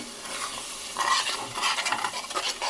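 Mutton bone curry sizzles in ghee in a pan while a spoon stirs it, giving a close, steady frying hiss broken by scraping strokes.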